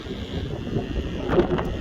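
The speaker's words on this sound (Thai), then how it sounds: "ลมแรงมากค่ะ ของพี่ลีนี่เล่นลมทุ่งนาได้นะคะ ลมทะเลไม่ค่อยไหวเท่าไหร่ค่ะ" Strong sea wind while a kite is flown, a loud continuous low rumble of gusts striking the microphone, swelling briefly near the end.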